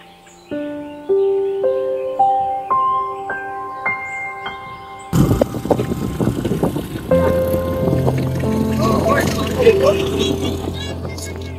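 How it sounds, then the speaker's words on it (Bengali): A motorized trawler boat chugs on the Padma river, its engine a steady, close, low drone with wind and splashing. It begins after a short run of rising musical tones, and someone speaks over it. "এটা হচ্ছে আমাদের 30 টাকার ট্রলার রিজার্ভ।"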